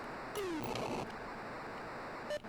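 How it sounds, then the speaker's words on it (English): Steady hiss of the white-noise engine sound from River Raid on the ColecoVision, faint and continuous, with short electronic chirps and a descending tone breaking in briefly. "That engine noise is kind of a white noise, you know?"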